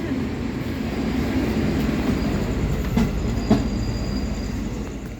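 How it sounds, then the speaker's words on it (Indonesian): A passenger train starts to move, a continuous low rumble of rolling wheels with faint clicks and squeals from the rails, heard steadily from inside the carriage. "akhirnya kereta pesanan kami mulai berjalan"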